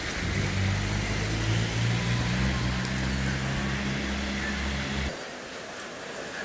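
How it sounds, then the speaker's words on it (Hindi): Heavy rain pours steadily in a district of Uttar Pradesh after a morning of light drizzle, a loud, constant wash with a low rumble beneath that drops off sharply near the end. "सुबह से धीमी धीमी बरसात के बाद शुरू हुई तेज बारिश।"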